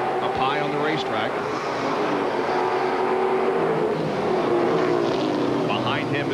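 NASCAR Featherlite Southwest Tour race cars roar around Tucson Raceway Park in 1995, a dense continuous engine drone with passing cars swelling and fading, under an announcer's steady race commentary.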